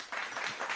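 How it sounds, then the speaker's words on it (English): Steady applause for a guest on a radio show, continuous and moderately loud, with no speech over it. "give him a big applause"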